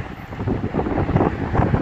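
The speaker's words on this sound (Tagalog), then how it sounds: "Malakas na hangin." Strong wind gusts at an outdoor bus stop in Canada, producing a loud, close rumbling roar of wind buffeting the microphone and holding steady throughout.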